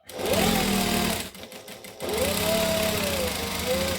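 A sewing machine stitches fabric for a Christmas tree skirt, running in a steady whir that pauses briefly near the middle before starting up again. A faint tonal whine rises and falls over the motor hum.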